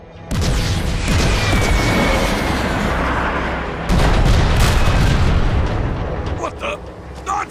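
Heavy main guns firing in the video game Transformers: Fall of Cybertron, deep booming blasts that roll into a sustained loud rumble, with a second blast midway and characters talking over it.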